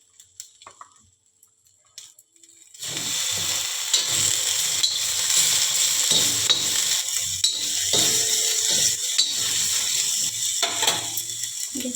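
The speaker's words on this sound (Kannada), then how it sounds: "ಹಾಕಿ ಸ್ವಲ್ಪ ಹುರಿಯೋಣ. ಅದರಲ್ಲೇ ಟೊಮೊಟೊನ ಹಾಕ್ತೀನಿ." After a near-silent start, tomatoes and green chillies hit a hot pan and sizzle loudly and continuously, with scraping and clinking as a utensil stirs them.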